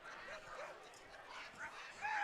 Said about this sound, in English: there's a lot of dogs barking